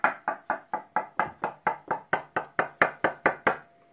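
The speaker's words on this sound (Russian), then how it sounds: "В это время нарезаем яички." A knife chops boiled eggs on a cutting board in about fifteen crisp, evenly spaced knocks. The strokes are close and fairly quick, and the chopping stands alone.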